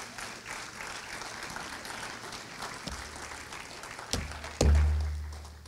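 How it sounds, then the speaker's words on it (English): A church congregation applauds during a Sunday sermon: steady, moderately distant clapping fills the room throughout, with a couple of dull thumps near the end. "You should clap right there."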